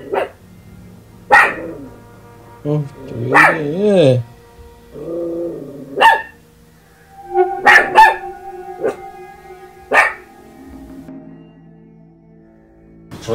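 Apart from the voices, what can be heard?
dog barking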